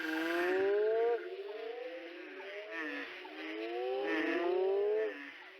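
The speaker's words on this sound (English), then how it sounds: "the cacophony of frog screams" Frogs call in a dense chorus, overlapping rising, whistling notes repeated in quick succession, with one loud close caller above softer distant ones.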